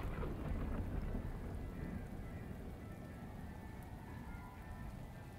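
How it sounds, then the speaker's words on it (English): Heavy rain and rolling thunder in the video game Shadows of Doubt form a dense, steady roar with deep rumbling underneath, with no voices. "Oh, it's raining. Very heavily, too."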